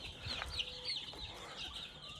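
A sick chicken clucks softly a few times, short throaty calls close by over quiet background noise.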